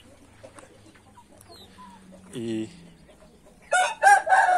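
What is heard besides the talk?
white chicken rooster crowing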